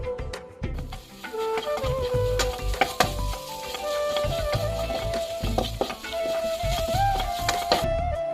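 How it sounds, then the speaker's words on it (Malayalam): Chilli, pepper, coriander, garam masala and chicken masala powders roast in a pan for chickpea curry, giving a soft, low crackle and intermittent scraping of stirring, fairly quiet, over a faint steady tonal hum. "ഇതൊന്ന് പച്ചമണം മാറുന്നത് വരെ മൂപ്പിച്ചെടുത്ത ശേഷം"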